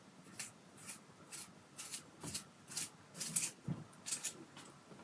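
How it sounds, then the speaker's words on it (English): A pencil being turned in a Mobius and Ruppert double-hole round brass sharpener, faint close rasping strokes repeating in an even rhythm about twice a second. "for the Mobius and Rupert double-hole brass round pencil sharpener"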